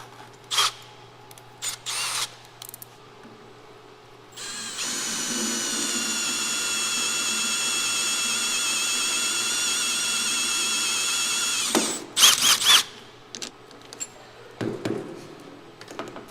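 A drill makes holes in an OMP Racing steering wheel from a Lamborghini, one long steady whirring run of about seven seconds, flanked by brief clicks and short bursts before and after.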